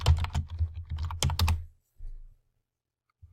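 Rapid typing on a computer keyboard, bursts of close, crisp key clicks followed by a brief pause and a few final taps, with no talk.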